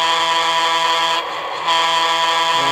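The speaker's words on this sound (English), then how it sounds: "Let's take a listen to the horn." An Athearn model locomotive's sound decoder sounds its horn as a loud, sustained chord that drops out briefly and then resumes, heard close with no other sounds.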